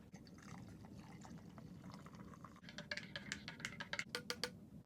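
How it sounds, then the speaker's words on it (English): Hot water is poured for coffee at a hot tent campsite: a quiet, close trickle and splash that grows brighter and more spattery toward the end. "Looks like we got some hot water for coffee."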